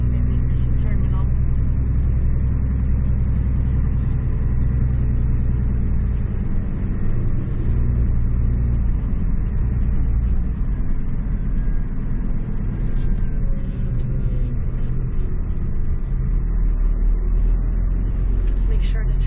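Pickup truck towing a trailer on the road near a cement and rock mix terminal, with steady loud low engine and road rumble throughout and voices talking over it.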